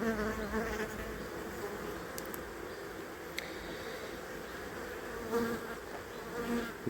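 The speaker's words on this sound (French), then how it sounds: "Les abeilles étant très calmes" Honeybees buzzing in an opened hive during an autumn inspection, a dense, continuous close hum that swells slightly near the end, with no talking.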